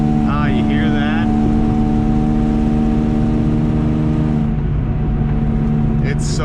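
A car fitted with a new exhaust drones steadily at a low, even pitch while driving, loud and constant, with a brief voice breaking in near the start.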